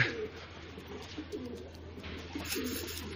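A Mardin pigeon coos in low, soft, repeated phrases close by, with a steady hum and faint background noise running underneath throughout.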